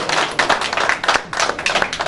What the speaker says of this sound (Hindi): जोरदार तालियां जी शेर खान नगरी के लिए।